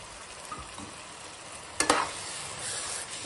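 Chicken curry with fenugreek leaves sizzles steadily in a frying pan, and a sharp scrape of stirring cuts in once midway, close and clear with no voices.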